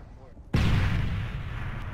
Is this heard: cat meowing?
no